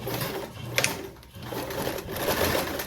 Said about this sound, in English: We're gonna sew with a 1-inch seam allowance so that way we can reduce the bulk of the seams later on